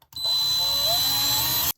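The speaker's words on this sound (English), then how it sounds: "Then I'm going to drill a little hole in the centre of my bottle lid." A power drill boring a small hole through the center of a plastic bottle lid, one steady close whine lasting under two seconds, loud and alone.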